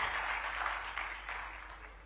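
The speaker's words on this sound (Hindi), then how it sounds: "तालियां हम सभी की लगातार बजती रहे देवी सज्जनों," Sustained audience applause at a state-level Biodiversity Day government ceremony in Bhopal, a steady dense patter of many hands clapping that fades slightly toward the end, with no talking over it.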